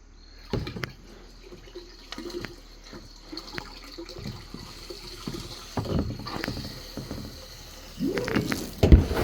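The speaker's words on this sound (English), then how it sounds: "I'm gonna go ahead and transfer it to the next tank, start filling that one up" Water being transferred into a rain tank, with scattered splashes, gurgles and knocks that grow fuller and louder toward the end as the tank fills.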